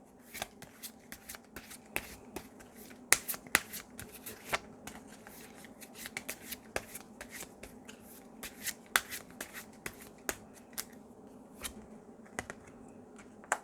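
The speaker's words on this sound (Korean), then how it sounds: "4번 분의 상대방에 대한 힌트 카드 하나 뽑아볼게요" Tarot cards are shuffled by hand at close range, a quiet run of crisp riffling snaps and soft slides repeating irregularly in quick bursts with no talk over them.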